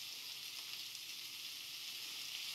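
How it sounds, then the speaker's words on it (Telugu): Thinly sliced onions frying in a pan, a steady, even sizzle that holds at a constant level from start to finish, with no voices over it. "సన్నగా పొడవుగా కోసి పెట్టుకున్న ఆనియన్స్ వేసేసుకుందాం"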